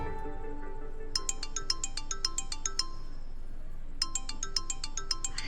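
A phone ringtone plays in two bursts of rapid electronic chirping notes, with a short pause between them, clear and close over a quiet room background.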